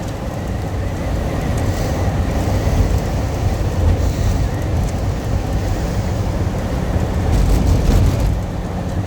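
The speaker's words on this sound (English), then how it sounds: "Here come the rain." Steady rain drums on a moving vehicle on a highway trip to Red Bluff over a loud, continuous road rumble, the wash of water rising and falling slightly.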